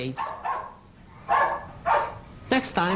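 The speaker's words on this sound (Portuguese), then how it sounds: "outro cão começa a latir" A dog out on the street barks several times in short, separate bursts with pauses between them, heard at a moderate distance.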